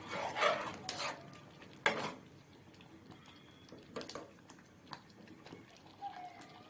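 Chakkera pongali, a sweet rice dish with dry fruits and cardamom, being stirred in a pot, giving a few soft scrapes and clinks of a spoon against metal at an uneven pace, fairly quiet, with no speech.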